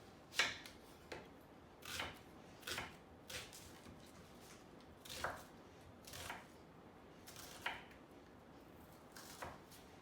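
A knife chops an onion on a cutting board in a home kitchen, giving about a dozen crisp, broadband knocks at an uneven, unhurried pace. The strokes are close and moderately loud over a quiet room tone, with no talking.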